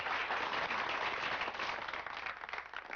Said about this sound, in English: Clap yourselves, because you've been super.